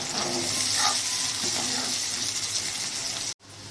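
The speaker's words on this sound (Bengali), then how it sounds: "তরকারিগুলো অনেকটাই ভাজা হয়ে এসেছে" Vegetables such as eggplant and spiny gourd with spices fry in a pan, giving a loud, steady sizzle with faint stirring scrapes, up close, before a brief cut near the end.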